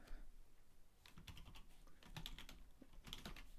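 Rapid, uneven keystrokes on a computer keyboard, fairly faint and close, with scattered clicks continuing for several seconds and no talking.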